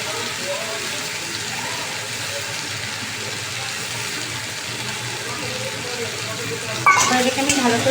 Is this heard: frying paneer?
yes